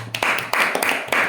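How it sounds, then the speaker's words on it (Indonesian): Several bursts of hand clapping from a small group during a casual Indonesian podcast-style chat, four quick broadband waves of applause rising and fading in about a second and a half, fairly close and moderately loud. "kenapa tepuk tangan ya?"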